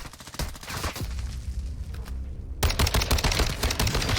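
Rapid bursts of assault rifle fire from a Warzone 2 match, dense and continuous for about four seconds, getting louder and punchier in the second half as shots come in quick succession.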